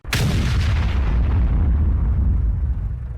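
A tank cannon firing in the video game World of Tanks, one sudden loud blast followed by a long, heavy rumbling boom that slowly fades, no voices.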